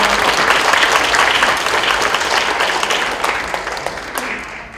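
Audience applause at a book-launch talk concert, a dense steady wash of clapping from a crowd filling the room, loud and continuous before tapering slightly toward the end.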